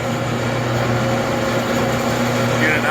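A rebuilt Davis S-20 paddle mixer runs steadily, its agitator paddles turning with a continuous loud mechanical drone and whirring hum, even and unbroken throughout.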